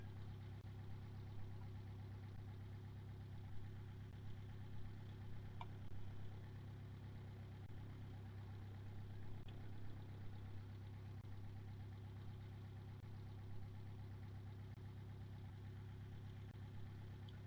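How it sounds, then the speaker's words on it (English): Gas engines on an airship in Kerbal Space Program drone steadily at full throttle, a constant low even hum throughout with no talk. "right now I'm full throttle on the gas engines and I'm not going that fast"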